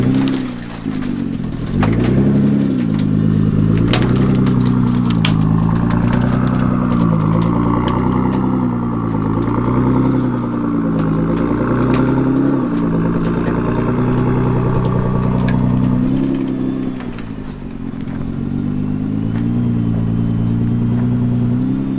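A Nissan GT-R rumbles slowly into an enclosed car trailer, its engine idling close and loud with small throttle blips and low revs, the note dipping briefly before settling back to a steady drone.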